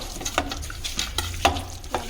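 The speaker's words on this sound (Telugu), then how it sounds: "కలుపుకోండి ఫ్రెండ్స్. ముక్కకి కారం బట్టే లాగా" Fried chicken 65 pieces get stirred to coat them in chili masala, with several sharp scrapes and clacks of a spoon against the pan over a steady sizzle, close and alone.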